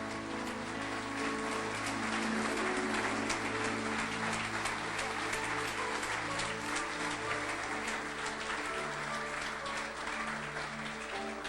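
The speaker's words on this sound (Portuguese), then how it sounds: "Quem acredita nisso, aplauda e glorifique ao Senhor." A church congregation at an evening men's service claps in a dense, continuous wash of applause, with sustained organ or keyboard chords and scattered voices mixed underneath throughout.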